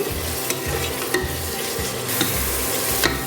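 Tomato masala sautéing in oil for turkey berry biryani, a spoon scraping and stirring the pan in repeated strokes over a continuous close sizzle, no talking.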